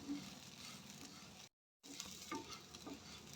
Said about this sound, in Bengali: চালটা দেওয়ার পরে গ্যাসটাকে হাই ফ্লেমে রেখে আমি চালটাকে ভালো করে ফ্রাই করে নেব।